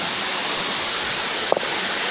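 Steady roar of a waterfall near Port Barton, damaged by a typhoon and swollen with rainwater, a dense, loud wash of falling water with a brief knock partway through.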